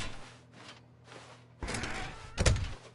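A door in The Stanley Parable makes soft whooshing movement sounds that give way to a louder scrape and a solid thunk near the end, close and clear, with no talking.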